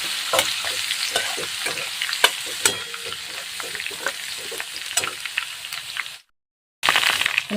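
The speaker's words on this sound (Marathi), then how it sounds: "जिरं आणि लसूण छान तळून घ्यायचं आहे" Cumin and crushed garlic frying in hot oil, a steady close sizzle with frequent scraping and stirring clicks from a utensil, briefly cut to silence before the sizzle resumes.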